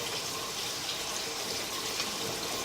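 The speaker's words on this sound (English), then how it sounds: "Looks like here's our water coming now." Water from a utility sink rushes steadily through a sewer pipe, a continuous close hiss and gurgle with no voices.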